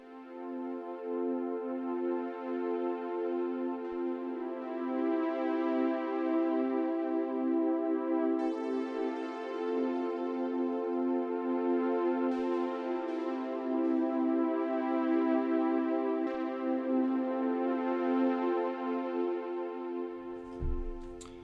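Moog One polyphonic synthesizer holding a sustained chord while the mod wheel raises the envelope sustain, the tone swelling and thickening over about twenty seconds, steady and close, with no voices.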